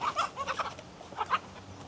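A farm chicken clucks in agitated bursts, two quick clusters of sharp squawking calls close by, separated by a short pause, with no talking.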